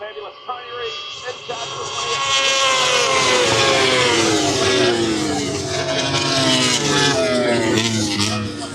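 Racing motorcycles, twins among them, sweep past during a race at the Burt Munro Challenge in Invercargill, New Zealand, their engines rising into a loud sustained roar with pitch shifting as they pass, voices faintly mixed in.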